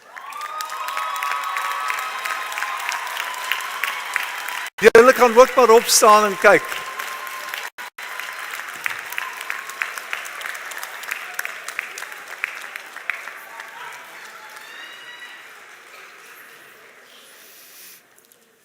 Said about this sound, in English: Won't you get up and cheer your families?